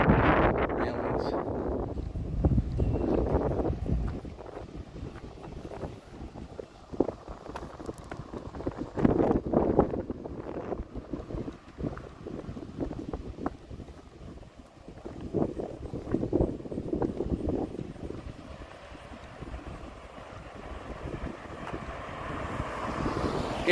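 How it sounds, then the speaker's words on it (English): Wind buffeting the microphone in the beach town of Port Stanley, Ontario, gusting in loud rough bursts that rise and fall over half a minute with quieter lulls between them. "It's windy for sure,"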